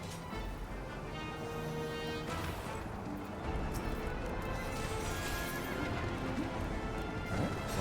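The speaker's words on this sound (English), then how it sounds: "Oh, the carousel horses." Carousel horses in the video game Final Fantasy XIV whinny and neigh over steady clip-clop hooves and a dense wash of game sound. The horse sounds run continuously and fairly loud throughout.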